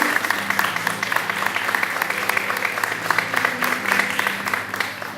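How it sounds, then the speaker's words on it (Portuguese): A church congregation claps steadily after a sermon reading, dense and sustained applause filling the room at moderate loudness, with a low hum running underneath throughout. "Dê uma salva de palmas pela palavra do Senhor Jesus"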